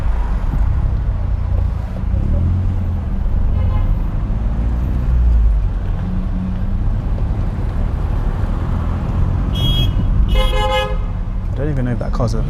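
Car horns honking in road traffic at a mini roundabout, heard as short bursts of beeping near the end over steady engine and road noise inside a moving car, with people talking.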